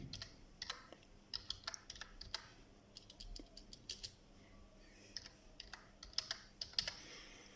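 Quiet, quick keystrokes tap on a Lenovo laptop keyboard in irregular clusters, crisp clicks close up over a low hum, with no voice.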